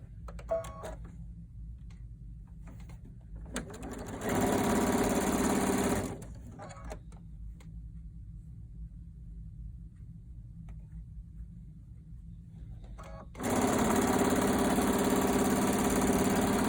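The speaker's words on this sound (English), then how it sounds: "we're going to stitch this one onto here and this one onto here" A sewing machine stitches end pieces onto a quilted table runner in two steady whirring bursts of a couple of seconds each, separated by a quiet pause with faint handling noises, close up and without speech.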